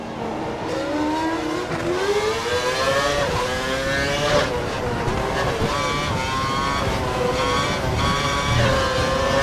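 Formula 1 race cars in the F1 2012 video game at the Valencia circuit, a loud continuous high-pitched engine whine rising and falling through gear changes, with other cars close by.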